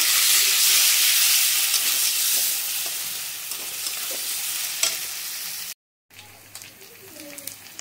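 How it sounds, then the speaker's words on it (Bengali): Two small spoons of ginger-garlic paste frying with onions in a pan for a chicken dish, with loud close sizzling and stirring scrapes. The sound cuts out briefly near the end, then quieter frying resumes. "এবার রসুন বাটাটা, আদা রসুন বাটা দিয়ে দিয়েছি 2 চামচ, ছোটো চামচে। তো এবার এটাকে ভালো করে ভেজে নেবো"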